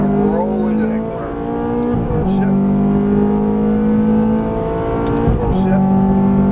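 A Ferrari F430 F1 accelerates on a track, its engine a steady, loud droning note that climbs and shifts, heard from inside the car under a driving instructor's continuous coaching.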